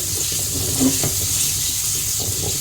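Potato pieces fry in hot oil with turmeric, giving a continuous bright hiss of sizzling, steady and close, with a faint scrape of stirring partway through.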